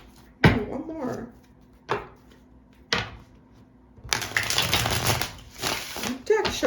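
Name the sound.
deck of cards being shuffled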